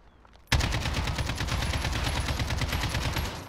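Rapid automatic fire from an AK rifle in a video game, set to maximum recoil, bursts in abruptly after a brief quiet start and continues as a loud, steady stream of shots to the end.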